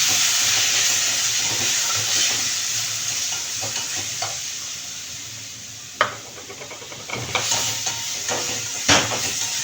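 Tomatoes dropped into a hot pan for beetroot rasam hiss and sizzle loudly and steadily, with a few sharp stirring knocks and clatters toward the end, close up and without speech.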